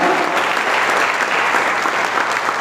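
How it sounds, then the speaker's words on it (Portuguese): A church congregation claps loudly and continuously, a thick, sustained wash of many hands with no gaps and no talking. "Um forte aplauso a Jesus. Aplausos bem forte."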